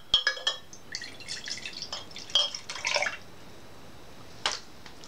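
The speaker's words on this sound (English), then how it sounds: "let me be very, very careful and pour it out over here" Carrot and turmeric juice poured out carefully, heard as a run of close, faint drips and light liquid splashes with scattered glassy clinks, ending in one brief louder splash.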